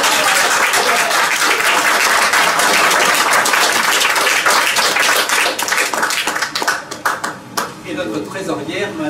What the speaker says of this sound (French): Avant, les applaudissements étaient plus cléments.